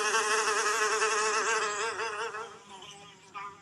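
Buzzing of two large black flies feeding, a steady wavering insect drone that is loud and close at first, then fades and thins toward the end.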